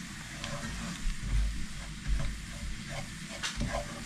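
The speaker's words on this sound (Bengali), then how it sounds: "এই পর্যায়ে আমি ফ্লাওয়ারটা অ্যাড করব। নাড়তে হবে স্লোলি, যাতে করে লাম্প না হয়।" Flour being stirred slowly and fried in a pan for a creamy vegetable chicken dish, a soft continuous sizzle with low scraping strokes and uneven bumps as the spoon moves.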